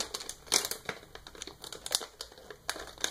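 A Lego Disney minifigure's plastic blind-bag package crinkles and rustles in quick, irregular bursts as it is handled and opened up close.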